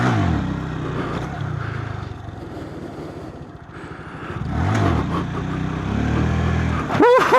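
An 8hp motorcycle engine during wheelie practice, droning and surging through revs with rising and falling pitch, close and loud, with a sharp rev at the end.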